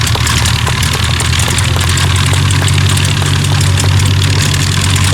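A vintage Blackburn propeller aeroplane engine drones steadily overhead at an evening airshow, a deep, throbbing hum, loud and continuous with no voices.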